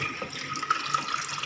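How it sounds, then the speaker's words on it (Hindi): Rinse water poured off a bowl of washed puffed rice in a home kitchen, a steady close trickle and splash with small drips, no talking. "अब ये इस पानी को हम इसमें निकाल देंगे।"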